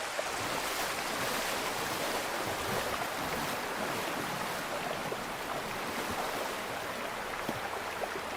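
A waterfall in the Siberian wild, where a bear fishes for salmon, gives a steady, dense roar of rushing water, loud and unbroken throughout, with no voices.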